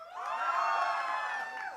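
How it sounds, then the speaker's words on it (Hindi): Audience at a preschool annual event hooting and cheering, a sustained chorus of high children's and adult voices whooping together, loud and continuous for under two seconds. "Pal branch give me some hooting."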